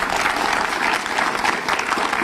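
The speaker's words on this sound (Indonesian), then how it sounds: "Tepuk tangan sekali lagi." Studio audience applause on a television talk show, a dense, even wash of many hands clapping together, loud and sustained across the whole stretch without a break.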